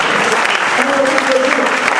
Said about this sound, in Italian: facciamo un altro applauso